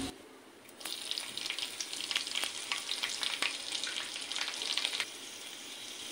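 Whole spices with five slit green chillies hit hot oil for a village-style desi chicken curry, a sudden loud sizzle that holds for about four seconds with a few stirring clicks, then drops back.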